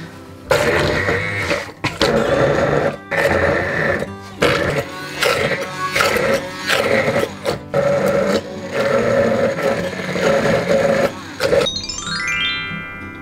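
A blender whirs in steady bursts, mixing hummus made with garlic, pepper and mayo, loud and close with brief pauses between pulses, ending in a fading whine.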